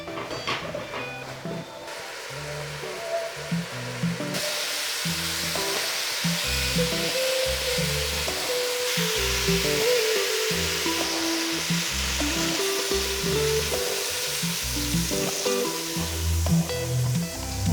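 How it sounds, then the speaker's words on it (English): Chicken skin frying skin-side down in a hot pot gives a loud, steady sizzle with crackling spatters that grows denser as it goes, alongside occasional clanks of cookware and no talking. "you hear the sizzle"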